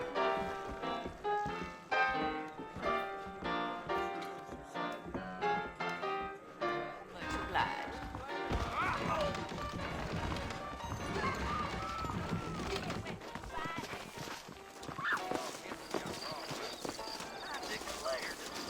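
Horse hooves clip-clopping in the video game Red Dead Redemption, a steady rhythmic trot mixed under game music and dialogue, with voices talking throughout.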